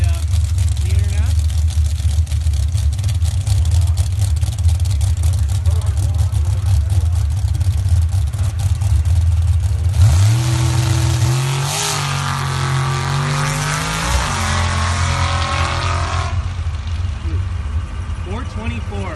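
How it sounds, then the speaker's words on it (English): Jeep drag racing on a sand track at a drag event: a loud, continuous engine roar under an announcer's voice, rising sharply in pitch as it accelerates and shifts before fading into crowd and commentary. "That Jeep has been running all weekend, puts out a lot of smoke after it shifts."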